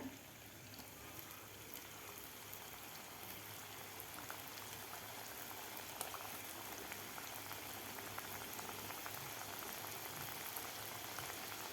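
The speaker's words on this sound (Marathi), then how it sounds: "आता हे सुद्धा आपल्याला गोल्डन कलर होईपर्यंत, असं क्रिस्पी होईपर्यंत आपल्याला हे तळून घ्यायचे आहेत." Moong dal shankarpali frying in hot oil, a steady faint bubbling hiss that continues without a break and without talk.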